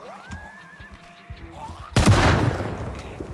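A single loud shotgun blast from the zombie survival game Project Zomboid, a sharp broadband boom with a decaying tail, preceded by faint game ambience and a tonal whine.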